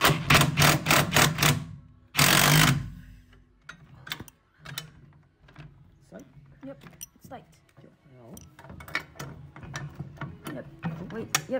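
Screw tightened with a ratchet while a basketball system is assembled: a fast series of clicking ratchet strokes opens, then a rasping burst and scattered clicks and clanks of hardware, with people talking throughout.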